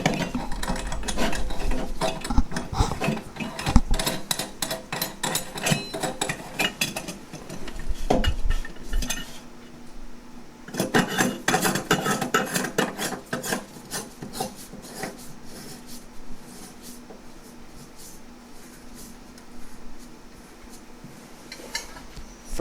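Close, irregular scraping and rubbing of a sink drain basket and P-trap nut being tightened by hand under a kitchen sink, louder bursts at the start and around the middle, then quieter grinding.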